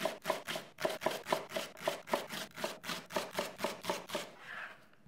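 A knife slices the white part of leeks into thin rings for carrot soup, cutting about sixteen crisp, evenly spaced strokes close up on a board before stopping.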